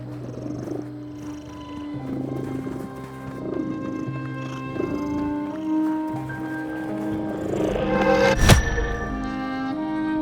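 A cat purrs in the video game The Midnight Walk, a low rhythmic rumble pulsing steadily at close range, with game ambience and a sudden sharp impact near the end.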